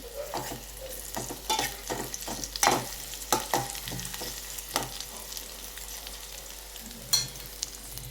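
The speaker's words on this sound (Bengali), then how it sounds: "এটা একটু ভাজা ভাজা হয়ে গেলে এর মধ্যে দিয়ে দেবো আমার যে কেটে রাখা পেঁয়াজের টুকরোগুলো" Chopped onion pieces fry in a pan while being stirred, producing a soft sizzle broken by repeated scraping and clinking strokes of a spatula at irregular intervals, close up with no talking.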